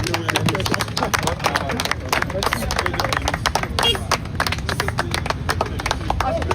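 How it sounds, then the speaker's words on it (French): A street crowd at an outdoor evangelism gathering at a crossroads in Lomé, Togo, claps and cheers, a dense continuous burst of applause with voices mixed in, loud and close. "Acclamons pour le Seigneur Jésus-Christ."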